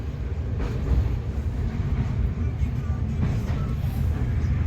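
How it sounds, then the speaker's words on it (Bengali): Inside a fast-moving passenger train on the Kolkata to Vizag route, a steady low rumble with faint rhythmic rattling, continuous and fairly close. "কিন্তু ট্রেনটা আমাদের বহুত জোরে যাচ্ছে।"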